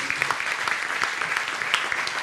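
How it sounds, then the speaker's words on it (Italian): Warm audience applause for a technical panel at the close of a legal training session; sustained, dense clapping from a roomful of people, with some individual claps standing out. "io direi di fare un applauso ma veramente caloroso"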